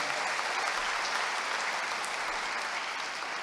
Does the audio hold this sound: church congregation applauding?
yes